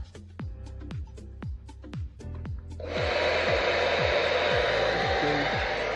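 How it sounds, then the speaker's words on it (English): An Air O Dry electric clothes dryer is switched on and its blower roars into a loud, steady whoosh, preceded by a few seconds of sharp clicks and thumps during setup. "So it's the blower."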